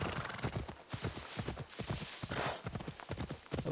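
Horse hooves galloping in the video game Assassin's Creed Odyssey while riding through a town: a fast, steady clip-clop rhythm of close, loud hoofbeats throughout.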